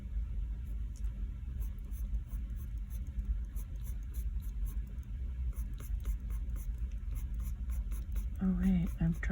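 Small marks are drawn with a pen on paper, scratching lightly in short, quick, irregular bursts, quiet and close over a low background rumble, with a brief soft voice at the end.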